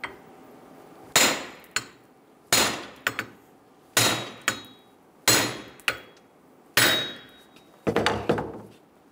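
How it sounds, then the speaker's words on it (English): A hammer strikes a wheel hub to drive it out of the steering knuckle on a 2000-2007 Ford Focus, giving sharp metallic blows in paired hits roughly every second or so, loud and close, with ringing decay between strikes. "We're going to use our second hammer and hit the hub out of the knuckle."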